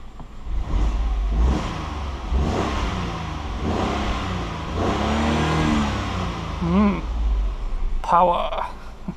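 Peugeot 208 1.2 engine starting and revving, mid-pitched rises and falls in engine speed close by, with talk over part of it and a brief electronic chime near the end.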